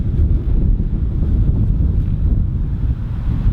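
Wind buffets a microphone outdoors, a loud, steady low rumble with constant gusty flutter throughout and no speech.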